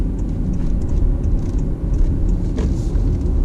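A 2019 Honda Clarity plug-in hybrid with a 1.5-liter inline-four rolls away from a stop, a low, steady, smooth rumble heard from inside the car with no engine surge and no talk.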